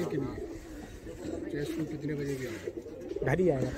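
Pigeons coo nearby in soft, rolling calls that repeat across the moment, with someone talking over them.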